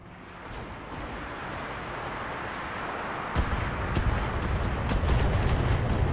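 Missile salvo fired in the BattleTech mech combat game: a steady roaring rumble builds, then a rapid series of sharp launch bursts and booms crowds in over the last few seconds, loud and close.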